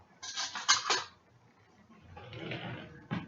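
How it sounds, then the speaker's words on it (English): A small spoon clinks and scrapes in a container of homemade juice: a cluster of bright metallic taps, a pause, then more rattling and a final sharp clink, close by with no talking. "I'm going to get a little spoon here."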